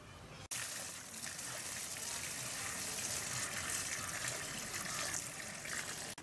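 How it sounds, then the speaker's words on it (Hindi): Water gushing steadily into a bucket, measured out for mixing sanjeevak compost with cow dung in Khagaria: a close, continuous splashing pour with one brief break near the start. "दीदी हमें पानी डाले छे"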